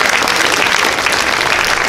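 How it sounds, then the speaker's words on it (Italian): Dense, loud applause from a large opera audience, a continuous wash of clapping that holds steady for a couple of seconds. "Grosso applauso a Vincenzo Bellini che ha donato questa gran"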